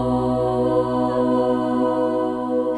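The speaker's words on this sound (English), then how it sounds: "I've done a cover of You Need to Calm Down and it sounds like this." A sung cover of Taylor Swift's pop song You Need to Calm Down, a steady sustained vocal and instrumental passage playing loudly and continuously without pause.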